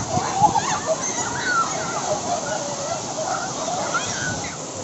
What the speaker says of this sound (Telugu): ఇదే దారమఠం వాటర్ఫాల్స్.